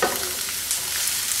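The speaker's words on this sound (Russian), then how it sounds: "И я добавляю капусту." Cabbage goes into a hot frying pan and is stirred, sizzling loudly and continuously at close range with scraping and stirring noises throughout.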